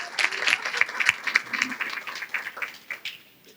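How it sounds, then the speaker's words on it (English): A modest round of applause from guests at a coronation ball held at the Portuguese Club, with distinct individual claps that are fairly quiet and thin out as it fades. "please hear a round of applause for the Portuguese Club"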